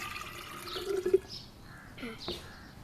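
Water from a clay pot pours into a jug in a home kitchen: a brief close trickle and splash, fairly soft, with a faint hollow filling tone.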